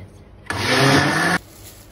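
An electric mixer runs for about a second while churning cream into butter for homemade ghee, a loud whirring burst that starts and stops abruptly against quiet room sound.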